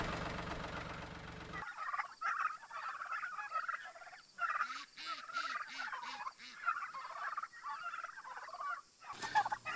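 Pasture-raised turkeys gobble in a quick run of repeated calls, close and fairly loud, with a brief rumble of machinery at the start and shuffling noise around them.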